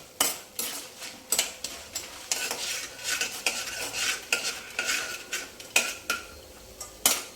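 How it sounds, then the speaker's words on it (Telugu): Vadiyalu, sun-dried dumplings, being fried in oil for a bendakaya pulusu, rhythmic spatula scrapes and clinks against the pan over a light sizzle, no voices. "వడియాలు ముందు నూనెలో ఆయిల్లో ఇలాగా ఎర్రగా వేయించుకోవాలండి."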